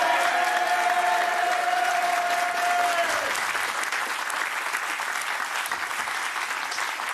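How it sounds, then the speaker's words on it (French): Steady, dense applause from a live television studio audience greeting the host, loud and sustained, with a held musical tone fading out in the first few seconds. "Je voudrais qu'on l'applaudisse."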